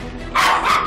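Dog barks twice in quick succession, loud and close, with a short gap between them and a quiet room behind them.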